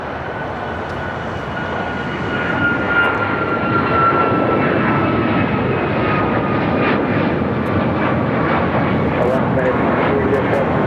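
United Airlines Boeing 737 MAX 9 jet taking off at Los Angeles airport, a steady broad engine roar that swells after a couple of seconds and holds loud and sustained, with a faint whine riding on top.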